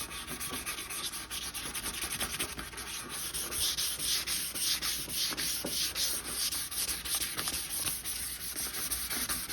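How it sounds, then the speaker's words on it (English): Steady abrasive sanding of the corners of an acrylic dust cover from a Technics turntable, a continuous rough scratching rasp with rhythmic back-and-forth strokes, close and fairly loud throughout with no talking. "I don't want to sand the squareness out of them"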